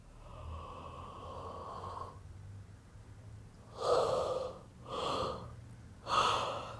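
Slow breathing at the end of an exhalation during a relaxation exercise, followed by three loud, drawn-out yawning breaths, close and alone, each rising and fading over about a second.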